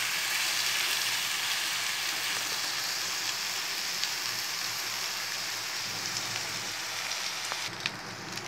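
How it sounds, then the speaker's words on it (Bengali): Dried loitta fish (shutki) frying with onion and garlic in hot oil gives a steady, close, loud crackling sizzle throughout, with no voices. "আমি ভালো করে শুটকিটাকে কিছুক্ষণ এই পেঁয়াজ আর রসুনের সাথে ভেজে নিচ্ছি।"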